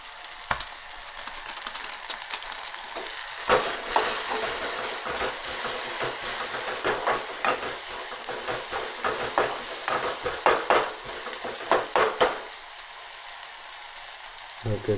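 Hot oil spatters and crackles in a pan as red chili powder and spice masala fry, a steady close sizzle broken by sharp irregular pops, with brief quieter moments near the start and end.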